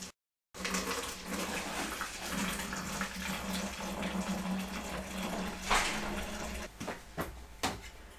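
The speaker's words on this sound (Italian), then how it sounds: "vado ad aggiungere l'acqua" Water pours steadily into a container of tannic acid powder for a tannin toning solution, a continuous close splashing fill with a few knocks and clatters toward the end.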